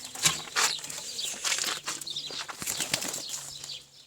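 A pigeon flaps its wings in several quick bursts as it is released outdoors, the fluttering close and fairly loud, with faint chirps and light rustling in between.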